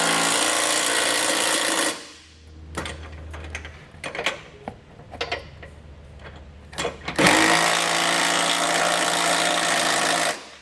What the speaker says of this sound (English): We can then go back with our 19 millimeter socket and tighten down our hardware.